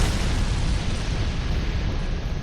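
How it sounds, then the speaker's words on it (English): A dragon in Dark Souls 2 Scholar of the First Sin breathes fire, giving a steady, dense, loud roaring rush that holds without a break for a couple of seconds. "So this dragon breathes fire immediately."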